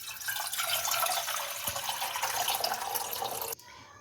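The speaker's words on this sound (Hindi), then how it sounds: "2 कप पानी डालें," Two cups of water pour from a vessel into a cooking pot for Peshawari kahwa, a steady close splashing stream lasting about three and a half seconds before cutting off abruptly.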